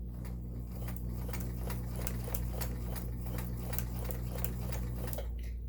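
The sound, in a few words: Kenmore 1802 sewing machine sewing zigzag stretch stitch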